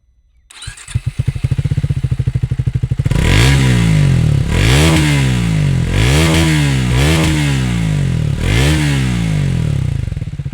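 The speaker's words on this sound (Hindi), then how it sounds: "आपको इसका एग्जॉस्ट नोट सुनाता हूँ" A Triumph Speed 400 motorcycle engine starts up and idles, then revs repeatedly in rising, falling surges, loud and close with a rough, throaty exhaust.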